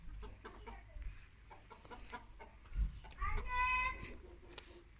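Chickens cluck and a rooster calls nearby in short, scattered bursts, with some background noise between.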